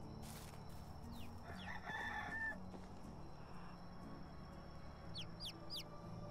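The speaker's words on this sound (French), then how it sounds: "Vous avez entendu le coq qui chante" A rooster crows in the medieval village setting of the video game Medieval Dynasty, distant and fairly quiet over a low ambient bed, with faint chirping birds near the end.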